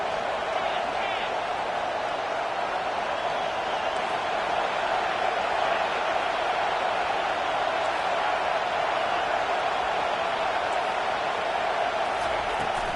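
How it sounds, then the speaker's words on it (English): A roaring stadium crowd fills the air with a continuous, dense wall of cheering and noise that stays loud throughout. "And here comes the noise. This crowd is trying to inspire this defense to make a big red zone stop."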